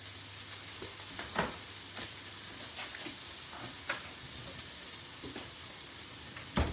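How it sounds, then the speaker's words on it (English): Ginger and garlic sizzle steadily in a hot frying pan, a soft constant hiss broken by a few sharper crackles and stirring scrapes, close and fairly quiet with no talking. "Going in with the ginger and garlic. We're going to turn this down so you don't want that garlic to burn."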